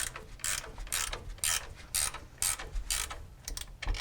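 A 1931 Plymouth parking brake ratchet being worked toward release gives a series of loud, close metallic clicking bursts in an irregular rhythm, about eight to ten sharp pawl clicks with brief pauses between them.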